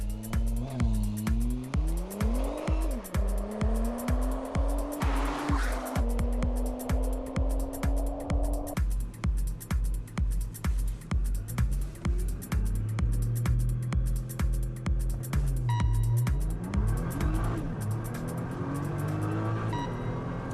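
A supercar launches hard from standstill to 100 km/h, its engine climbing loudly through rising revs with distinct gear shifts, heard close and continuous from inside the car with no talking.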